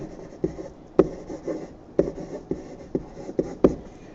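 Marker or chalk writing on a classroom board during a maths lesson, a close sequence of short taps and strokes at an uneven rhythm, with a few sharper knocks as each stroke begins.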